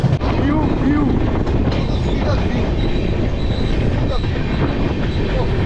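The Amravati Express passenger train rumbles steadily past nearby near Dudhsagar Falls, Goa, loud and continuous, with faint wheel squeals and clatter under the roar.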